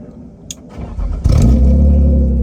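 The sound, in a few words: BMW E36 drift car engine starting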